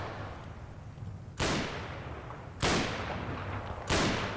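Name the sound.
suppressive gunfire in video game Combat Mission: Battle for Normandy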